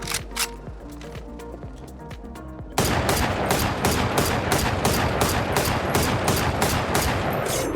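Rapid, evenly spaced gunshots from the Valorant video game, fired while aiming down sights and shift walking, ring out as a loud, steady volley after a quieter opening stretch.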